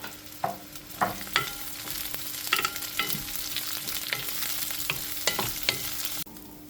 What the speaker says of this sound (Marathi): गेलो कांदो मस्त भाजून घेता